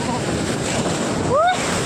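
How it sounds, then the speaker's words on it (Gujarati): Sea waves wash onto a sandy beach in a steady, broad roar with wind buffeting the microphone, and a short voice rises briefly near the end. "દરિયાનો વ્યૂઝ આપણો થોડોક પાણીનો અવાજ આવતો હોય છે"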